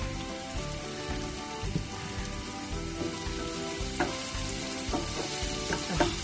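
Curry leaves and hing crackle and sizzle in hot oil for moong dal, a dense, steady spitting hiss with occasional stirring taps, close and continuous.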